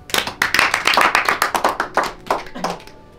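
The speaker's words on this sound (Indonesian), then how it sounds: "Tepuk tangan buat kalian semua." A group claps hands in a fairly rhythmic burst of sharp claps that slows and fades out near the end.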